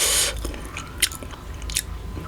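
Momo dumplings being chewed up close, a burst of noisy sound at the start followed by soft wet bites and crunchy chewing, with no talking.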